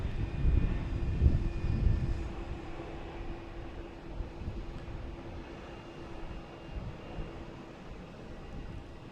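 A Lufthansa airliner passes over the lagoon at Boston Logan, a steady low jet rumble that swells early on and then holds as a broad, even roar at a moderate distance with no voices.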